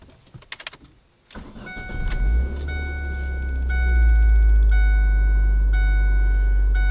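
Keys jingle briefly, then a 2004 Ford Focus engine with a new timing belt and motor mounts cranks and catches, settling into a steady, deep idle rumble close by.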